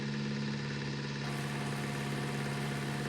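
A tractor engine in Farming Simulator 19 runs with a steady, loud drone and strong low hum, brightening slightly about a second in as throttle is added, continuous and without speech.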